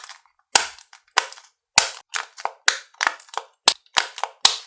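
A silicone pop-it antistress fidget toy being pressed, giving a dozen or so sharp, close, snappy pops in an irregular rhythm with brief silences between them.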